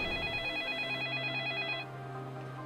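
A telephone rings indoors in a kitchen, a warbling electronic trill that repeats for nearly two seconds and then cuts off, leaving a low hum; the ring is fairly quiet and no one speaks.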